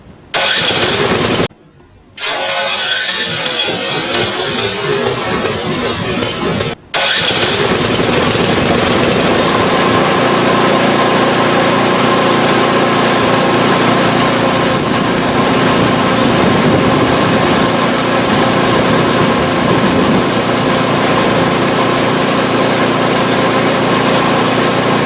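A PowerSmart 24-inch snowblower engine cranks briefly, stutters, then catches and settles into a loud, steady close-up idle that runs for about 18 seconds with no talk.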